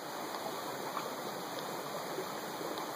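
Water pours quickly through a Katadyn Hiker Pro filter into a Camelback bladder, making a steady, close rushing and trickling sound with no talk.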